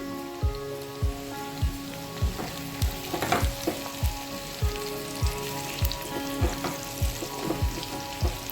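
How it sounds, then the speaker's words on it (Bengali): Chopped onion and grated garlic sizzle steadily in a hot pan, with soft regular knocks roughly every half second running through the frying, close and clear. "পেঁয়াজটা এরকম ভাজা হচ্ছে"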